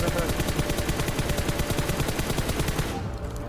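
Gunfire in the mobile battle-royale game PUBG Mobile rattles out as a loud, continuous stream of rapid automatic shots for about three seconds before cutting off, with no voices over it.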